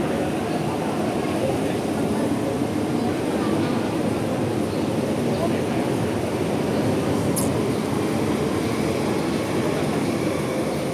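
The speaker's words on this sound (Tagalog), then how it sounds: "Ang bilis ng train, no?" A fast-moving train rushes through a station with a continuous loud rumbling roar and rail noise, heard up close for the whole stretch, with people talking faintly underneath.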